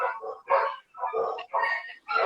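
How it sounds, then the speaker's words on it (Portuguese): Dogs bark repeatedly at home, about five close, loud barks in an uneven rhythm with brief gaps between them. "as cachorras também não estão ajudando aqui."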